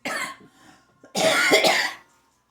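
Two harsh coughs nearby, a short one and then a longer, rougher burst, separated by a brief quiet gap.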